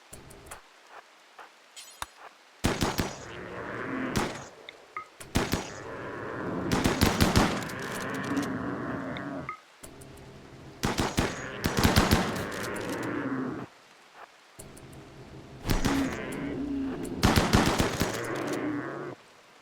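Gunfire in the RimWorld video game, rapid bursts of rattling shots in several volleys separated by brief lulls, moderately loud with small ticking sounds between.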